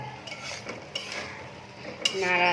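A spoon scrapes and clinks against a pot of okra, potato and shrimp curry with coriander leaves, a few soft stirring knocks close by, ending in a brighter metallic scrape.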